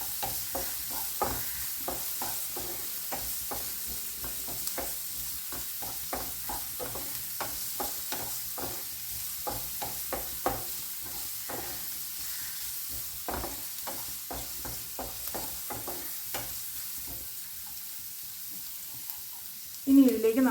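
Onion and garlic sauté in a pan for a healthy diet lunch, sizzling steadily while a spoon stirs them in quick, regular strokes throughout, close and without talk, ending with a brief louder clatter.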